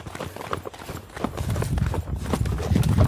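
Hooves of a large cow led on a rope clop steadily on hard ground, close and fairly loud, with a quick irregular walking rhythm.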